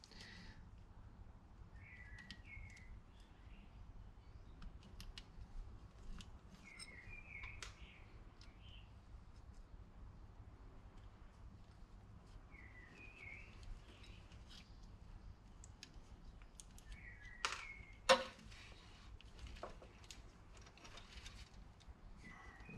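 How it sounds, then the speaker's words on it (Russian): Small birds singing faintly in the background outside a quiet garage box where a Subaru is being worked on, brief chirp phrases repeating every few seconds over low hum, with a couple of sharp clicks. "Птички поют на заднем фоне, это потому что бокс в экологически чистом месте."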